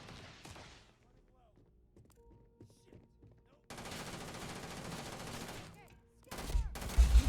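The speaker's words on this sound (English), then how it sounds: "Why are they shooting at me?" Sustained enemy gunfire in the space game Starfield, a steady roaring fusillade of rapid shots after a quieter stretch, followed by louder bursts near the end, with a person talking over it.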